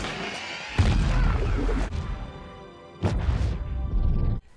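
A black powder charge goes off against the Tao Tei monster in a battle on the Great Wall of China, with two heavy blasts, each followed by a rumbling roar that fades out.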